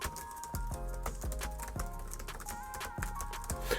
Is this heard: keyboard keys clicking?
yes